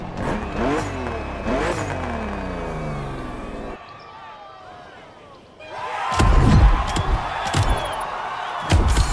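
A BMW M2CS engine revs in the racing video game The Crew Motorfest, its pitch sweeping up and down, then goes quiet before a louder, rougher burst of engine roar with sharp knocks.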